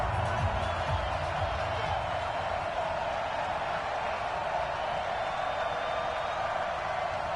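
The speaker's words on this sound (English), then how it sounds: "This crowd is ready" A large crowd at an NFL football stadium for the Washington Redskins versus Pittsburgh Steelers game roars steadily, a dense wash of cheering heard under a broadcaster talking.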